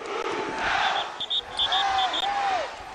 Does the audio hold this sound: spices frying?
no